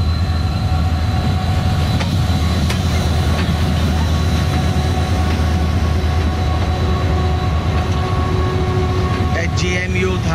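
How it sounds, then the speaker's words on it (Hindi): A PHMU30 class? No: an HGMU30 diesel locomotive, number 8203, rumbles in close and steady at Karachi Cantt station, its low engine drone loud and continuous with faint rail squeal and a brief clatter near the end. "फाइनली शालीमार एक्सप्रेस को लीड करने के लिए पावर आ चुकी है।"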